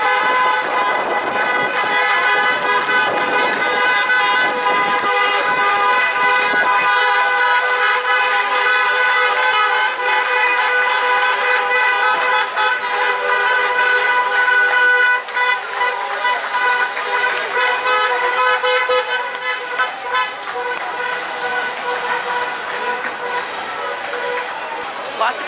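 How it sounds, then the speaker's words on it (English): Taxi car horns honk in protest on a Lisbon city street, a dense, continuous blare of overlapping tones lasting throughout, loud and sustained with a busy crowd and traffic underneath. "So I'm sure you can hear the horns."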